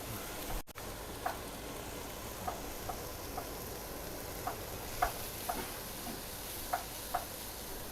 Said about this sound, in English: off we go into sweating onions